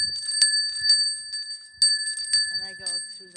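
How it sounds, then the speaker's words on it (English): A small temple bell struck repeatedly while walking through a house, sharp bright rings with sustained high tones, about eight strikes, with a voice talking between them. "I have here, I'm going to show you, my favorite temple bell"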